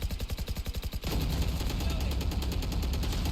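Rapid automatic gunfire from a teammate in Valorant: a tight, even run of loud shots for about a second, followed by a dense, sustained burst of overlapping fire and game noise.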